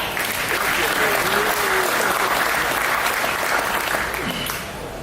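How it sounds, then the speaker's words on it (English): Sustained applause from a conference audience at a token launch and partnership presentation, a dense steady wash of clapping that holds for about five seconds before easing slightly, with a faint voice briefly audible beneath it. "maybe just a quick round of applause for the Untraceable team"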